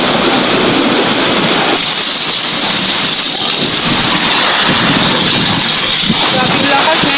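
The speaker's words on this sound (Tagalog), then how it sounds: "Ang lakas ng ulan. Ulan tsaka hangin." Heavy typhoon rain and gusting wind in Bicol, Philippines, a loud continuous roar of downpour and wind noise throughout, with a voice speaking faintly beneath it.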